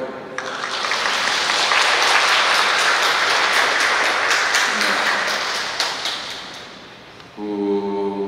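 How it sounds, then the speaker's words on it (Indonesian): Loud, sustained applause from a congregation at a Catholic mass, swelling quickly and holding for about seven seconds before dying away, followed by a brief tone at the very end. "Baik, boleh tepuk tangan."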